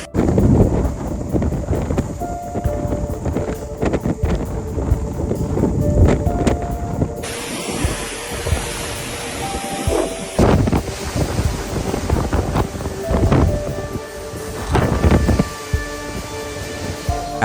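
Typhoon wind and storm in Hong Kong roar steadily, buffeting the microphone with constant gusty noise and splashing water like waves, loud and unbroken with no voices.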